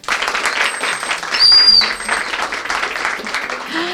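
An audience applauding a national boxing coach as he is introduced on a TV programme, moderate clapping swelling briefly in the middle, with a thin tonal whine above it.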